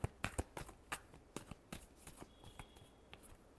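A deck of tarot cards being shuffled by hand, a quick series of crisp riffling snaps and slaps, close and quiet, with no voices.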